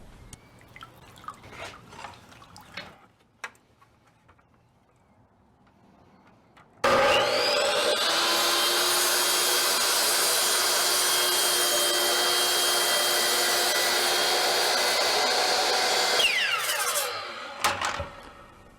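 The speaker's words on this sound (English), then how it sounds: "My miter saw can't quite cut all the way through the brick" A miter saw grinds through a soft fire brick, starting abruptly after a quieter stretch of faint taps and handling noises, then holding a loud, steady, harsh whine for about ten seconds before spinning down.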